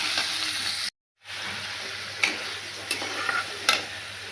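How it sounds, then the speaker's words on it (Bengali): Onion, tomato, ginger and garlic sizzle steadily in a pan, with a short gap early on and several clicks and scrapes from a stirring spoon. "টমেটো দিয়েছি, আদা রসুন দিয়েছি,"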